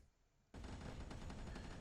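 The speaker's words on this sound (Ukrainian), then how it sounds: "Ось бачите той міномет, який стріляє зарядами." Silence, then sudden loud rapid bursts of mortar fire in the video game Ocean Keeper booming continuously, dense and close.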